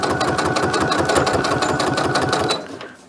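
A sewing machine runs steadily, stitching tiny fabric scraps into a crumb crazy quilt block, its rapid needle rhythm loud and close before easing off near the end.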